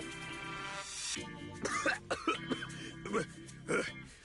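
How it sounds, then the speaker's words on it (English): A Zenless Zone Zero game character coughs heavily in a series of harsh, hacking bursts with throat clearing, close and loud against quiet game background. "Yo, my man about to cough up his lungs."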